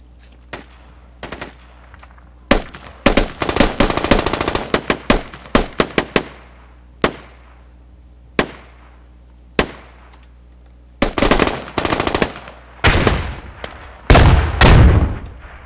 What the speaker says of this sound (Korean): 총알 존나 날아